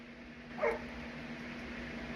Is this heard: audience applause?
no